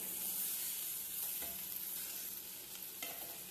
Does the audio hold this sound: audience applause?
no